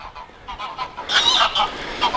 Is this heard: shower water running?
no